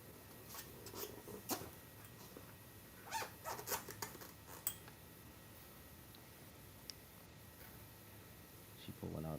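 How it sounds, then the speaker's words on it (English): Short, scratchy zipping strokes come in quick bursts, faint and close, against a quiet background hum with a few clicks. "I hear some zippers going on back."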